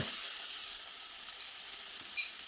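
Onions and crushed garlic frying in a pan for a cluster bean and potato masala curry, a quiet, even hiss of sizzling oil with a faint tap near the end, no talking.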